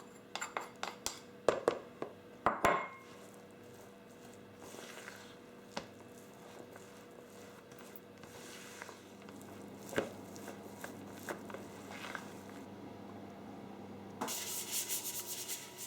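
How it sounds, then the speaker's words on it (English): A chestnut roast mixture is stirred and blended in a bowl, giving soft, gritty rubbing and scraping with a few sharper knocks early on, fairly quiet and close, then a brief louder rasp at the end. "Add the remaining all-purpose and blend it well until it all comes together."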